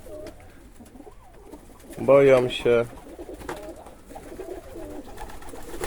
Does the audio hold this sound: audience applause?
no